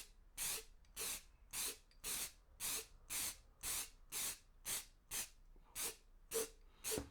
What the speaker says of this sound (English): And just give it light sprays.